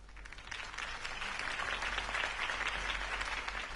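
A crowd in a Batman video game breaks into sustained applause, a dense even patter of clapping that holds steady for several seconds with no voices over it.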